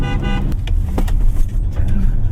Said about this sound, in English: do a horn test.